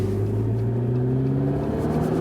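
A McLaren 650S Spider, a 650 hp V8 convertible, drives along with its engine droning steadily in a low, rising tone, heard up close from the cabin under wind and road noise, with no one talking.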